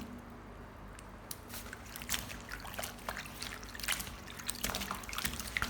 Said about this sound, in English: Then, rinse thoroughly under running water.